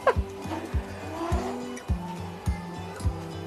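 A Raze Genesis dual-motor electric scooter pulls hard in gear 3, with a series of sharp squealing bursts repeating about every half second over a low running drone, loud and close.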